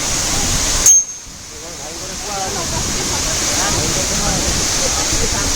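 Khandadhara waterfall in India pours in a steady, broadband roar of falling water that fills the whole scene. A brief sharp metallic ting comes near the start, and faint voices murmur beneath the rush.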